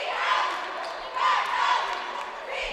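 Crowd noise fills a boys' high school basketball gym as El Segundo plays Lawndale, a continuous mid-distance roar of voices and shouts swelling in waves.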